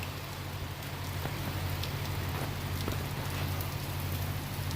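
Rain pours down steadily on an outdoor site where linemen are working, a close, even hiss of drops with occasional sharper splashes against a low hum, and no talking.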